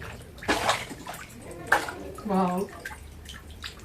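A small fish freshly brought from a field splashes in water in a tub, a few sharp sloshing bursts separated by quiet gaps, close by, with a woman's exclamation and speech mixed in.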